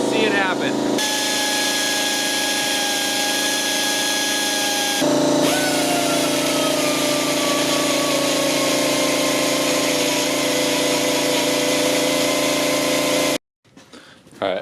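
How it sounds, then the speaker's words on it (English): A grinder cuts away at a stuck brace on a Harley-Davidson transmission during a main drive gear seal repair, a loud continuous whine with shifting pitch running for over ten seconds before abruptly stopping. "I can't get this brace off, so I'm grinding away at it"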